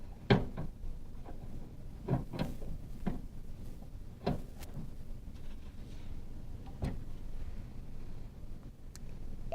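An autoclave door in a medical office is undone and opened, giving a series of quiet metallic clicks, latch knocks and handling taps spread over several seconds in a hushed room.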